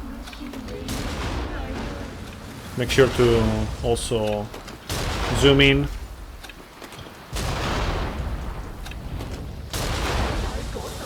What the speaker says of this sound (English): And we start shooting it with the cannon.